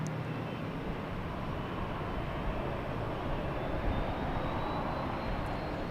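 A plane taking off at Boston Logan Airport, a loud, steady engine roar heard from a distance that holds throughout with no voices.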